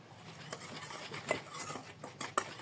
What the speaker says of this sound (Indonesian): semua bahan ini kita akan aduk sampai tercampur rata ya